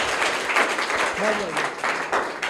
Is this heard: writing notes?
no